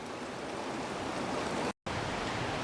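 Mountain creek rushing through a wilderness valley in Colorado's Weminuche Wilderness, a steady, dense roar of flowing water that holds constant and loud, briefly cut by a moment of silence near the end.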